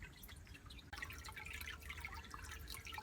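Water runs out of a pipe in an off-grid aquaponics setup once the pump is switched on, a soft, steady trickle and splash that grows a little fuller after a brief break, faint and without talk.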